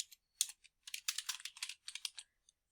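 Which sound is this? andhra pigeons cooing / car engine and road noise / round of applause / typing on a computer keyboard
typing on a computer keyboard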